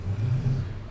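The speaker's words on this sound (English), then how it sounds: "And we will get back in the tractor." Low tractor engine rumble from Farming Simulator 19, a steady close drone holding level for about a second with no talk over it.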